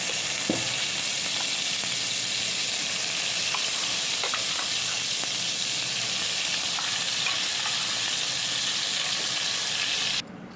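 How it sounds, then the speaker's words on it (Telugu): Ground onion paste sizzles and spatters in hot oil with mustard seeds and cumin for a kaju paneer curry, a steady, dense frying hiss heard up close and uninterrupted until an abrupt drop at the end. "ఇప్పుడు గ్రైండ్ చేసుకున్న ఆనియన్ పేస్ట్ని వేసేస్తున్నాం."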